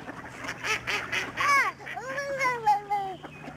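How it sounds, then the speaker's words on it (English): Several nasal quacks and honking calls sound close by in quick succession, loud and raspy, as a flock of ducks calls together. "They're all ducks."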